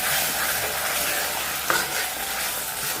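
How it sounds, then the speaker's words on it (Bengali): Spice masala fried with a splash of water in a pan, giving a continuous close sizzling hiss with one brief scrape of stirring. "এই যে হালকা একটু জল দিয়ে আরও একটু ভেজে নেব"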